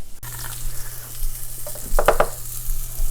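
Ginger and garlic hit a hot pan with oil and give off a steady, close sizzle. A short clatter of stirring comes partway through.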